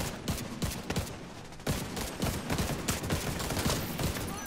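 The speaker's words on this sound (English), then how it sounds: "I'm shooting the shield guy." Rapid bursts of gunfire in the video game The Division 2 during a firefight with a shield-carrying enemy, loud and dense with repeated sharp shots and short volleys across the whole stretch, with no voice over them.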